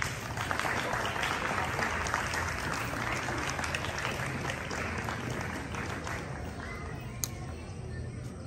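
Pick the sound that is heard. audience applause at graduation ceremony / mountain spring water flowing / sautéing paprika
audience applause at graduation ceremony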